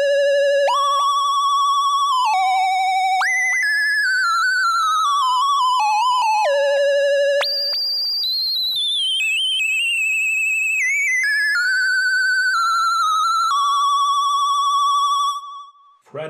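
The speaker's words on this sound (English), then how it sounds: "switch the filter to bandpass and turn the resonance really high, you can get the singing filter effect" A Waldorf Rocket synthesizer plays a lead line through a bandpass filter with resonance set very high. Pure, whistling, sine-like tones glide and step through a melody, loud and alone.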